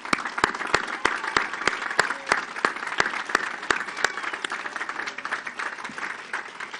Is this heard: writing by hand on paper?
no